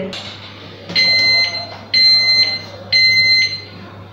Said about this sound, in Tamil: டைம் வந்து முடிஞ்சு ரெடி ஆகிடுச்சுன்னா இந்த மாதிரி மூணு பீப் வந்து பிபி அப்படின்னு சொல்லி வந்துடும்